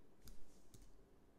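Two crisp computer mouse clicks while OBS Studio settings are being set for streaming, sharp and close, spaced about half a second apart over a quiet background.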